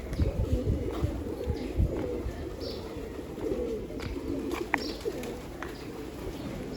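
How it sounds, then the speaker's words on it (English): Pigeons coo softly in a Newari monastic courtyard in Kathmandu, Nepal, with repeated low calls over a steady outdoor background. "The pigeons are having a great time."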